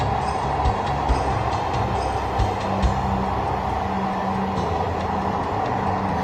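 A Dhaka metro rail train runs near Uttara South station with a steady low rumble and hiss from inside the car, broken by a few soft rhythmic clicks of the wheels.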